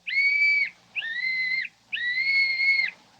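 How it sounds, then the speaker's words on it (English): A small whistle is blown three times in a row, each a steady, clear, fairly soft tone lasting about half a second to a second, with short pauses between blasts. "Blow the whistle quick, Jimmy."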